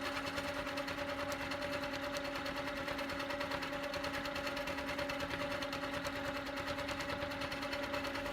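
A Handi Quilter longarm sewing machine stitches continuously with a steady, rapid mechanical hum and needle patter, close and even throughout with no voices.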